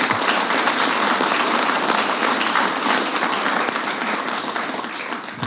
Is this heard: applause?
yes